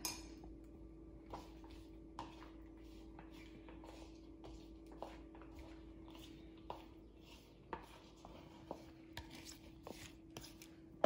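A utensil mixes egg salad seasoned with salt and black pepper in a bowl. Quiet, irregular clinks and scrapes sound every second or so over a steady low hum, with no talking.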